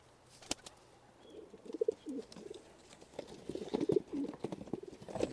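Pigeons coo softly in short, throaty bursts, mixed with scattered clicks and light rustling, in a quiet setting with no talking.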